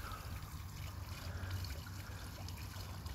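Water trickles and hisses steadily through a turbine nozzle in a round turbine housing as pressure is slowly turned on, a continuous, fairly faint wash with a low rumble beneath.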